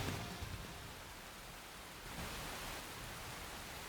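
Steady, dense rain ambience from the video game Xenoblade Chronicles X, a continuous broadband hiss of falling rain with no distinct drops or thunder, fairly loud and even throughout with no voices.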